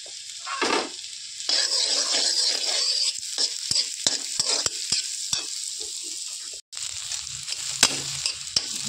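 Mashed potato filling for aloo kachori frying in a pan, a close sizzle broken by repeated sharp scrapes and taps of a spatula stirring against the pan, no voices.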